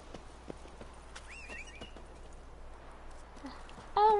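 Roach, the horse in The Witcher 3: Hearts of Stone, clip-clops along in steady hoofbeats at moderate distance, with soft bird chirps and a brief loud game sound at the end.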